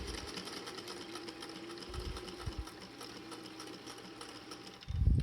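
A sewing machine stitches bias tape onto a fabric face mask, running as a steady close whir with rapid needle chatter before a louder clunk near the end.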